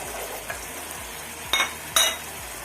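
Chopped green chillies dropped into masala frying in oil, a steady sizzle under stirring, with two sharper bursts of crackle as the chillies hit the pan.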